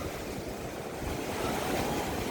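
Choppy sea water churns and slaps steadily around a boat during a typhoon, with a low rumble of wind and surf and no talking.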